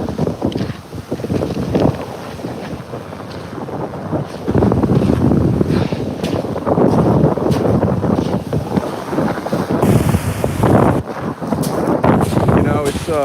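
Strong wind buffets the microphone outdoors by the shore, a constant rushing roar with gusts, while a person talks over it.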